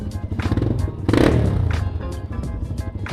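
A Yamaha Scorpio motorcycle with a replaced aftermarket exhaust runs close by and swells into a short rev before settling back to a throbbing idle. No one speaks.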